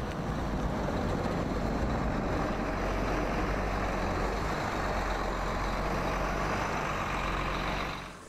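A Bandwagon tracked military transport vehicle moving through snow during an exercise, a loud, constant heavy engine and track roar that stays close and steady before cutting off at the end.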